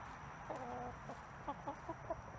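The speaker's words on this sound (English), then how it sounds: "I'm looking after my neighbor's chicks right now." Small chicks being looked after indoors peep in a quick series of short, high chirps, close and fairly faint, with no talking.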